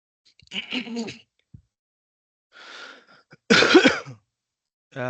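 A man with a sore throat clears his throat and coughs several times during an online meeting, short harsh bursts separated by silence.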